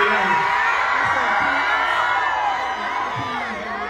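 A crowd of kids at a Ludacris concert in Philadelphia screams and cheers in a high-pitched, sustained roar of many young voices that eases off a little toward the end.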